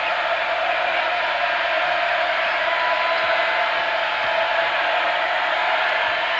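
A record-size basketball crowd roars in an arena during a Texas Tech at Texas A&M game, a loud, dense and steady wall of cheering and whooping that runs throughout.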